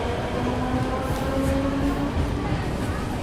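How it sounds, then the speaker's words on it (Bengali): A train rumbles steadily along with a continuous low roar and faint metallic tones, loud and close throughout. "ট্রেনটা আবার এগিয়ে চলল"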